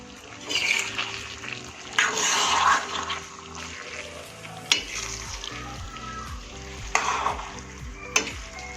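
Masala spaghetti pasta simmers in a pan after water is added, with bubbling, frying sizzle and occasional stirring scrapes and sharp clinks of a utensil against the pan.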